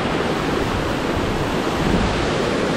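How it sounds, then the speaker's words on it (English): Loud, steady roar of the tallest waterfall in Bali, a dense unbroken rush of falling water heard close with no voices. "that is the tallest waterfall in Bali"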